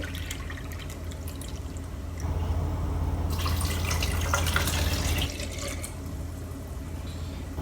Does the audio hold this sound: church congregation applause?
no